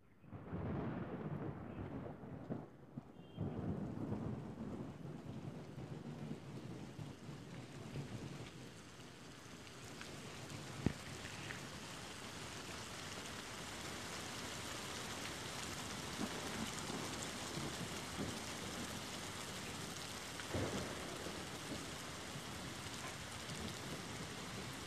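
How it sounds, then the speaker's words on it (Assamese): Recorded rain with thunder plays from a website: a steady hiss of rainfall with low rolling rumbles and a sharp crack midway, continuous and fairly quiet throughout, with no voices. "বৰষুণ দিয়াৰ দৰে শব্দ হয়"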